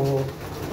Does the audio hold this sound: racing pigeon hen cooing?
yes